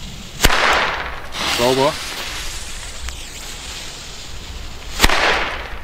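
Firecrackers from a WECO Atomic Pack assortment go off outdoors: two sharp, loud bangs several seconds apart, each followed by a brief echo, with a voice speaking between them.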